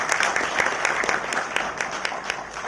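Audience applause after an introduction at a government event on GST Council decisions, a dense steady wash of many hands clapping at close range, filling the whole stretch without a break.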